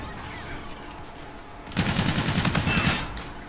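Machine gun fire in the Call of Duty Infinite Warfare beta, heard as a rapid burst of rattling shots that breaks out partway through over quieter game ambience and lasts about a second before tapering off.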